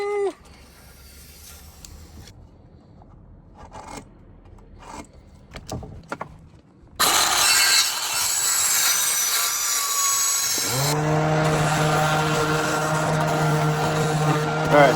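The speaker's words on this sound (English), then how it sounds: "I just had to grab my saw, throw the battery in that, and start cutting" Battery-powered cordless saw cutting wood for a bed platform in a converted school bus in Quartzsite. Quiet handling and knocks come first, then a sudden loud, rasping cut that settles into a steady, high motor whine.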